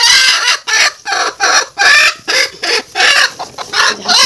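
A hen clucks loudly and close up as it is lifted, giving a rapid series of sharp, agitated bursts roughly every half second with brief pauses between them.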